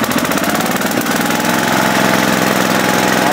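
Gas-engine air compressor used for sandblasting motorcycle parts, hot-started and running at a loud, rapid, rough chugging idle, close by and steady with no talking.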